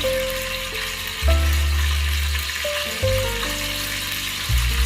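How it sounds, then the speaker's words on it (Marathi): Green chillies and onion with whole spices such as cinnamon, peppercorns and bay leaves frying in a pan for mutton biryani, a steady close sizzle with low clatters and two stirring bursts, no talk. "हिरवी मिरची आणि कांदा लालसर असा भाजून घेणार आहोत"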